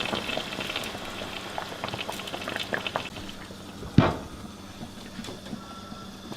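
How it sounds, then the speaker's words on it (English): Beef shank broth boils hard in a pot, giving a steady close bubbling and crackling with one sharp clink partway through. "All right, you can see we're boiling it good."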